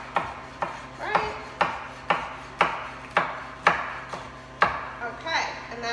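A knife chopping ingredients for a black bean burger on a cutting board in a teaching kitchen, about eleven crisp, evenly spaced chops, close and clear with no talking.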